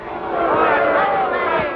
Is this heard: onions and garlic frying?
no